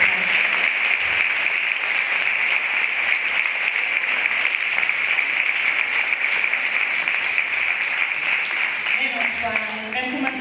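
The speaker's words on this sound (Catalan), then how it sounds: "Un aplaudiment per elles." Sustained applause from a concert audience at a charity concert against breast cancer, many hands clapping in a dense, even wash for about ten seconds, with a brief voice surfacing near the end.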